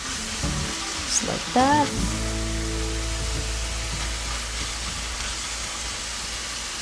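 Filipino pansit guisado sizzles steadily in a pan as it is stirred with black pepper, a constant frying hiss that continues after a short spoken phrase near the start.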